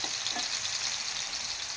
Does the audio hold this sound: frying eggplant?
yes